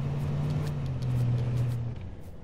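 A vehicle engine in H1Z1 hums steadily at a low pitch, close and constant, with a slight shift in tone partway through before easing off.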